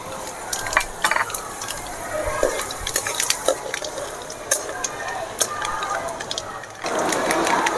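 Fennel and spices frying in a pan for urundai kuzhambu: soft sizzling with clicks of stirring and scraping, then a louder hiss as more ingredients drop into the hot oil near the end.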